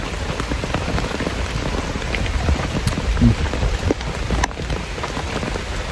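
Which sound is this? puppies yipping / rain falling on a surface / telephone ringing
rain falling on a surface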